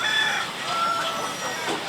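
Chickens on a poultry farm cluck and squawk continuously in a dense, busy chorus, loud and close, with many birds calling over one another.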